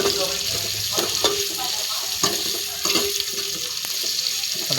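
Onions and spices for a mutton curry sautéed until golden, a steady sizzle broken by regular scraping and clinking stirs against the pan, fairly close and loud.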